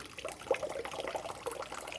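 A tap runs at a thin trickle over a dryer lint screen being rinsed, giving a steady, close splashing patter of water with no one talking.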